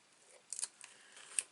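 Scissors snipping paper while a 6 x 4 chalk-finished mini album is being made, a few quick quiet cuts with brief crisp clicks spaced across the moment, close and alone without talk.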